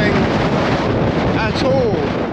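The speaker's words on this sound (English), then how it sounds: "I don't need to put fake wind noise in. That's a gust." A strong wind gust roars continuously against an MLD Trailstar tent pitched for wild camping on Dartmoor, close and loud throughout.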